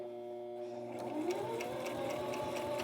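Sewing machine stitching a fabric face mask, starting with a low motor whine that rises into a steady, rapid needle chatter, close and moderately loud with no one talking.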